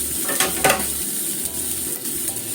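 Eggplant sizzles steadily in a frying pan over medium heat, a close, continuous crackle with a few soft stirring scrapes and clicks and no voices.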